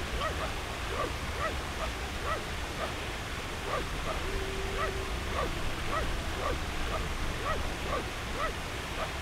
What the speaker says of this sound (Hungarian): Azt ugatja.